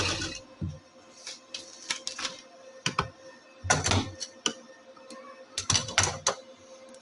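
A sewing machine stitches pleats on a summer kurta, running in short clattering mechanical bursts separated by brief pauses, fairly close and moderately quiet.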